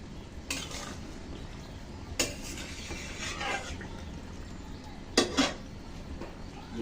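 A metal lid comes off a pot of potato and eggplant curry, with a few separate clanks and scrapes standing out over a soft, steady sizzle close by.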